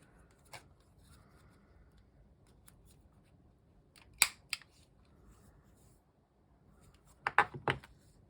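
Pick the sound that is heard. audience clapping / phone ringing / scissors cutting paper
scissors cutting paper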